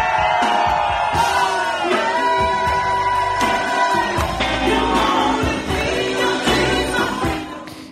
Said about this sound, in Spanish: esos gritos que se oían así de fondo era la resistencia cafetera